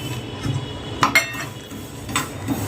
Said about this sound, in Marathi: तीळ आपण भाजून घेऊया